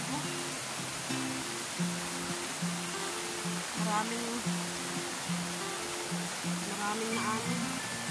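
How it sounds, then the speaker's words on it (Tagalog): A river runs strong and swollen, its steady broadband rush of water continuous beneath a voice talking throughout. "hindi tayo makapag pamingwit kasi lalong lumakas yung tubig sa ilog mo"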